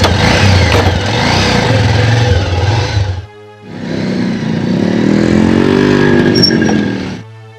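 A loud motorcycle engine runs and revs up close in two long bursts separated by a short pause.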